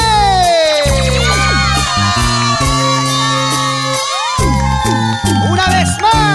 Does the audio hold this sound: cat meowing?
no